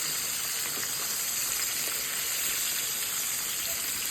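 Pork chops sizzle steadily in a hot frying pan in a home kitchen, a dense, even crackle of frying fat that runs unbroken and close throughout, with no talking over it.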